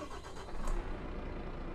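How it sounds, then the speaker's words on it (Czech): A truck engine turning over and catching in Euro Truck Simulator 2, a short broadband rumble swelling briefly mid-way, then settling into a steady low drone with no talk. "Jsme v naší mašině a použij E pro nastartování motoru."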